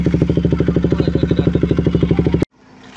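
A KTM Duke 200 motorcycle engine running close by with a steady, rapid chugging pulse, then cutting off abruptly near the end, leaving quiet background.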